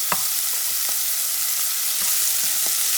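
Peppers fry in a pan for an eggplant stew, giving a steady close sizzle with faint clicks of stirring throughout and no talking.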